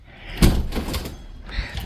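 A door opens with a dull thunk while someone moves from one room to the next in a small villa, followed by further soft knocks and handling noises, all close by.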